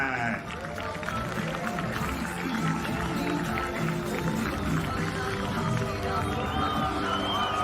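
Spectators at the Baseball5 World Cup championship final fill the venue with steady clapping, cheers and crowd noise for Team Japan, continuous and fairly close, with a voice talking over it.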